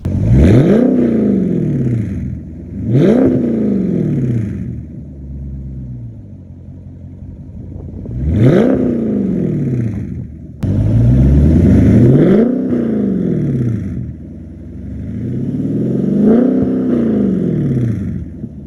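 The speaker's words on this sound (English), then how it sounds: "let's cut to some exhaust clips" A 2021 Dodge Challenger Scat Pack T/A engine revs repeatedly, each rise and fall a loud throaty exhaust roar, several blips in a row with rumbling idle between, nearby and without speech.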